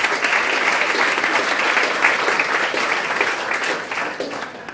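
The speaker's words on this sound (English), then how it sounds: "if anyone could just give her a round of applause" A round of applause from a fundraiser audience, dense and steady throughout before easing slightly at the end.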